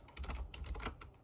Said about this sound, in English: sorry, I'm clicking around here, it's going to be loud.